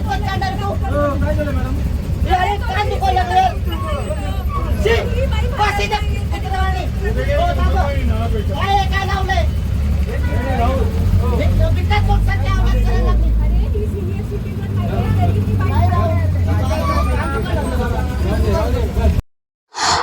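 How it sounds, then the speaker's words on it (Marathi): A city bus heading toward Mandai rolls through ordinary road traffic, its engine giving a steady low rumble throughout, with chattering passenger voices and street noise over it until a sudden cut at the end. "आम्ही बसमध्ये बसलो. आणि रस्त्यावर नेहमीप्रमाणे ट्रॅफिक जी आहे ती राहतेच राहते"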